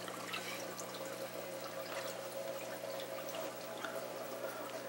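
Water from an aquarium canister pump splashes and trickles steadily back into the tank, a soft continuous bubbling with scattered drips over a low pump hum.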